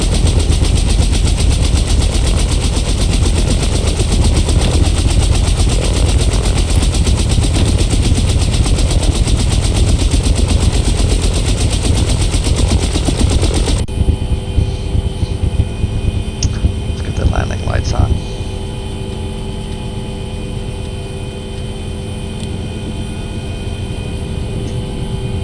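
A UH-1 helicopter engine winds up during startup in a flight simulator game, a loud dense turbine roar that drops abruptly to a quieter steady whine with faint clicks.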